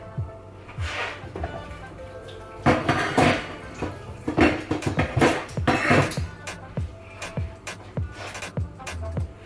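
Metal pots and utensils clatter on a stovetop while two pots cook at once for a quick Jamaican dinner, with irregular close knocks and scrapes that build into a busy run of clanks.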